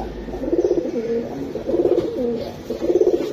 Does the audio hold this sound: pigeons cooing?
yes